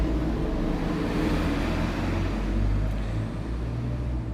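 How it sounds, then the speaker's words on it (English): A loud truck rumbles past on a street in Mérida, Mexico, a heavy, steady low engine roar that stays close and strong throughout without talk. "this loud ass truck is about to go by"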